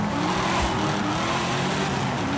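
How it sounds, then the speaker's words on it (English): Supercharged car engine in Forza Horizon 5, droning steadily and loud throughout with a continuous whine over a low rumble, no talk. "Car has a supercharger, lovely sound."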